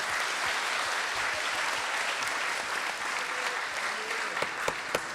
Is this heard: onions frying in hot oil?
no